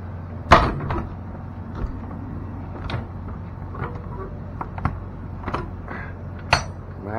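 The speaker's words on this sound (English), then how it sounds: "Maybe we get this door closed." A truck trailer door being worked shut, with a loud metallic clunk near the start and a series of scattered knocks and rattles over a low steady engine or air hum.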